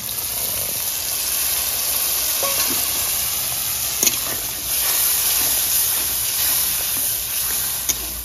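Mustard and poppy seed paste mixed with water hits a hot pan for a mustard pabda fish curry, giving a steady loud sizzle and hiss with a few brief clinks of a spoon.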